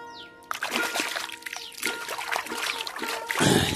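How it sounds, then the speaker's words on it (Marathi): Hands being washed under flowing water outdoors, with steady splashing and trickling throughout and louder splashes near the end. "वायत्या पाण्यामध्ये आता हात धुवून घेतो."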